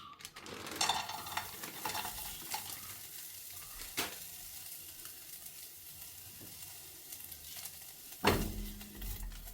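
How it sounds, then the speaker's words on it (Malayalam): Onions fry in butter in a pan for a paneer gravy, giving a faint steady sizzle with a few scattered spatula scrapes and one louder clatter near the end. "ഈ ബട്ടറും സവാളയും കൂടി ഒന്ന് അതിൽ കിടന്ന് മൂത്ത് വരട്ടെ."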